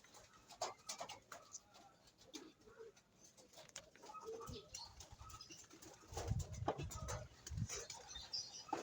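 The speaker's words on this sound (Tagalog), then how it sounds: "At dito sila nag-i-stay, ang mga young birds natin." Young racing pigeons coo softly inside their loft, low scattered murmurs and rustling against a faint, airy background, growing a bit busier toward the end.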